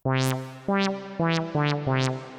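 Five Pigments synthesizer notes in a row, each with a sharp attack and a bright filter sweep, blurred together by echoing delay and a reverb tail.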